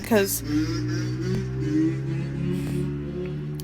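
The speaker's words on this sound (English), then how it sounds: "sorry about the car noise." A car engine on a quiet residential street, loud and close, with a revving tone that rises and then settles into a steady drone while someone speaks briefly.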